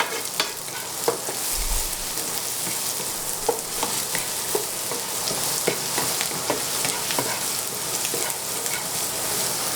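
Garlic fries in a pan for shrimp tacos, a constant close sizzle with frequent light clicks and scrapes as it is stirred, no voices over it.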